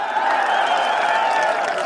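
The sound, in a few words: audience applause at an election rally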